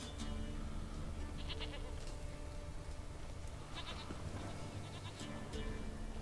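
A goat bleats in The Witcher 3: Wild Hunt, giving several short, wavering calls over a steady, faint ambient bed of wind and game noise.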